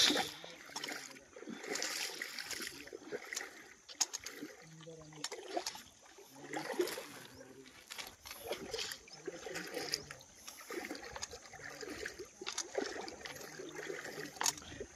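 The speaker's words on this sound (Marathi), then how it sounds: "काही परिक्रमावासी आपल्या पुढे नदी क्रॉस करत आहेत।" Water splashes and swishes irregularly as pilgrims wade through a shallow, knee-deep river with a noticeable current, with flowing water and scattered voices nearby.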